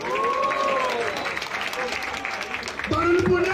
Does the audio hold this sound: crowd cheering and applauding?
yes